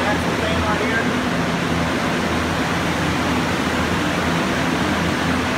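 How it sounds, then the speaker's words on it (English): Axial fans and dehumidifiers running during sewage flood restoration in a house, a steady, loud broadband whoosh of moving air with a low hum underneath, constant throughout with no pauses. "And we use a lot of axle fans come up through here."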